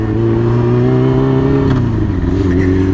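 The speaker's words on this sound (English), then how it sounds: "Oh, a big tractor." A big tractor's heavy engine drones loudly and steadily nearby, its low rumble shifting in pitch as it passes.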